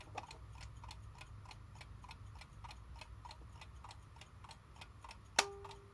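A Haller Beatall mechanical alarm clock ticks steadily and quietly at close range, an even tick-tock rhythm ending with one sharp louder click.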